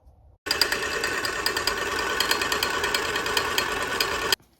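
A chocolate fondue fountain machine's motor starts abruptly, runs with a steady loud mechanical whir and rattle for about four seconds, then cuts off sharply; no speech.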